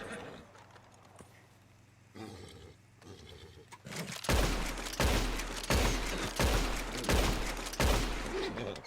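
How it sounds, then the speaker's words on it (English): Repeater rifle gunfire in Red Dead Redemption 2 beside a horse: after a quiet stretch of hoof sounds, a run of loud, evenly spaced shots crack out close by, roughly every half second. "she is a little bit agitated by the gunfire"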